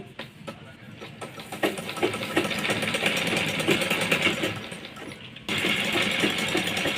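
Sewing machine stitching a picot edge on a saree, a steady fast mechanical whir running almost the whole time with a brief dip before it resumes.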